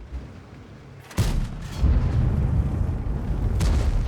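A tank cannon in a video game fires its last shell with a loud, sudden boom, followed by sustained low rumbling battle noise and another sharp blast near the end.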